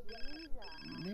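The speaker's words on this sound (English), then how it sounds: "Whose phone is ringing?" A phone ringtone in The Sims 4, a bright electronic ring sounding in repeated short bursts, close and clear, with game sounds underneath.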